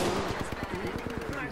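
Rapid automatic gunfire in Apex Legends, a quick run of sharp close shots in a steady rhythm for about a second and a half, with a voice speaking over it.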